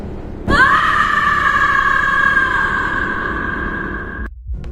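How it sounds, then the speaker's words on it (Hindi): A woman lets out one long, loud, sustained scream that rings through a hospital corridor, holding steady for about four seconds before cutting off abruptly. "उसकी तेज चीख पूरे कॉरिडोर में गूंज उठी"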